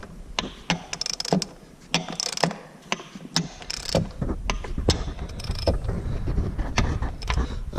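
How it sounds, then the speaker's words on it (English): A ratchet wrench is turned on an injector of a 12-valve Cummins diesel engine, giving close, repeated sharp clicking bursts in an irregular rhythm amid light workshop handling noise. "so I will now put my ratchet on it"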